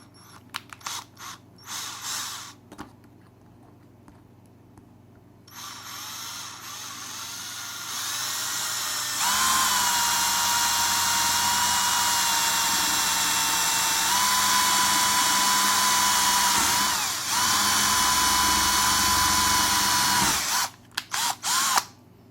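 A power drill bores a small hole, around 1.5 to 2 millimetres, through a flattened metal strut for a Ferrari 348 glove box, a steady high whine that rises and strains for over ten seconds, close by, with ratcheting clicks before and after.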